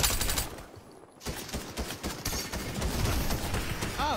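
Video game gunfire in a duos shooter match, rapid bursts of automatic fire and repeated shots rattling almost continuously after a brief lull, loud and close.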